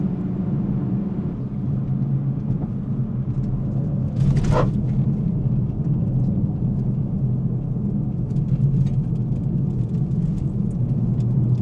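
A 2020 Toyota Supra 3.0 GR with its B58 engine pulls hard under acceleration, a loud, steady low rumble heard from inside the cabin, with a brief higher burst partway through and no talking.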